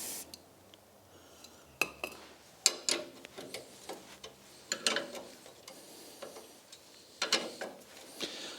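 Ratchet undoing bolts on the lower wishbone of a Formula Konick race car, faint irregular metallic clicks and clacks in short bursts, close by and with no one talking.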